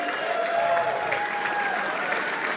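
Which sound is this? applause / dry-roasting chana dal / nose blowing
applause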